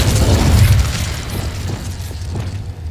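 Incendio fire spell cast in the Hogwarts Legacy video game: a loud, deep whooshing burst that rumbles heavily at the start and then fades into a crackling, fiery tail.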